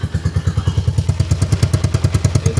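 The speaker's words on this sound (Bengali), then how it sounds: "একটু ভারী ভারী স্যালেন্সারের সাউন্ডটা করে দেওয়া আছে" A modified TVS Victor 100cc motorcycle's heavy aftermarket silencer thumps out a deep, heavy rhythmic beat at idle, loud and close, each pulse evenly spaced.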